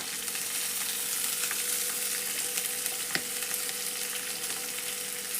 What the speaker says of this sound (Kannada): ಇದನ್ನೆಲ್ಲ ಫ್ರೈ ಮಾಡ್ಕೋಬೇಕು ನೋಡ್ರಿ ಎಣ್ಣೆ ಒಳಗೆ